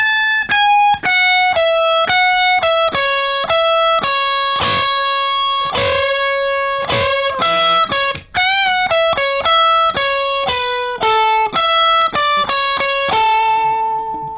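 A guitar plays the riff from a song: a clear, close sequence of picked single notes and bends in a steady melodic line, played alone without talking.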